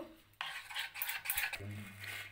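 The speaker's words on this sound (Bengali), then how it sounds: "এবার আমি পেস্টটাকে ভালো করে নাড়ব।" A spoon stirs cake batter paste in a steel bowl, producing close, bright metallic scraping and clinking in quick repeated strokes, quiet overall with a low hum beneath.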